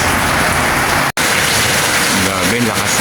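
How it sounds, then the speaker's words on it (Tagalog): Heavy rain pouring down onto garden plants and strawberries, a loud, dense, unbroken hiss of falling water close by, with a faint voice briefly audible beneath it near the end. "Grabe, lakas ng ulan."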